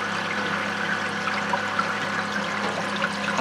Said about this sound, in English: A little oil pour.